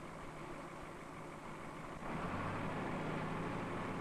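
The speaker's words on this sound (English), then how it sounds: "he waits for the engine to warm" Engine of an industrial machine warming up, a low steady idle rumble that steps up slightly louder and deeper halfway through, with no voices.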